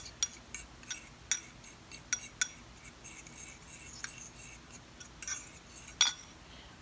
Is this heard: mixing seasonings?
yes